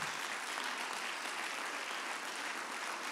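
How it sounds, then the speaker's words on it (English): A church congregation bursts into loud, sustained applause of praise, dense clapping filling the whole stretch without a break. "give him a thundering applause of praise, for he is coming back."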